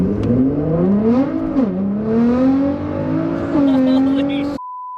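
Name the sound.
tuned Nissan GT-R accelerating on a test drive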